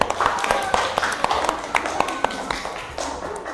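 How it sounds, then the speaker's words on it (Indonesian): Classmates clap for a student in a classroom, a loose burst of hand claps with sharp individual slaps over a murmur of voices. "Oke, beri tepuk tangannya meriah untuk Untung."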